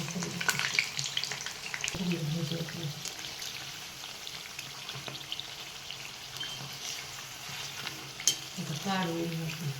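Potato bhaji frying in hot oil on a rainy day: steady crackling sizzle throughout, with occasional stirring scrapes and clinks and a few louder pops, close and moderately loud.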